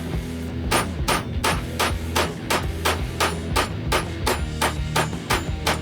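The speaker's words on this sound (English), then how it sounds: "Continue hammering until it comes out." Steady, evenly spaced hammer blows strike a steel punch and die set as a Chuck E. Cheese token is punched through at its center; roughly a dozen loud, ringing metallic impacts in a regular rhythm, close by with no talking.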